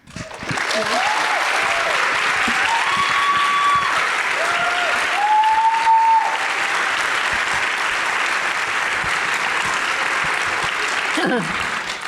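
Sustained audience applause fills a reception after a costume design panel, steady and dense from start to finish, with a voice briefly audible over the clapping.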